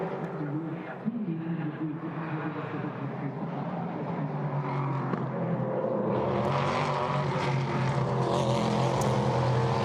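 Prototype Cup Germany race cars at the Norisring street circuit roar past in a continuous, shifting wash of engine noise, rising louder and brighter toward the end, with commentary voice running underneath.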